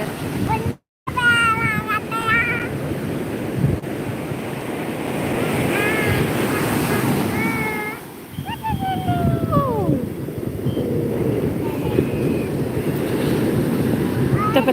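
Ocean waves at Rushikonda beach in Visakhapatnam, a continuous wash of surf with wind buffeting the microphone, while a person talks over it and other voices sound in the background.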